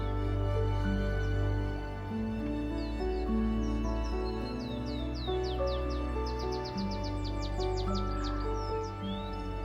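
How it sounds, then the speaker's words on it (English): Many birds chirp and trill in quick bright bursts over a steady low droning hum at Puerto de Mogán, Gran Canaria, the calls clustering densely midway through. "Sound of the birds."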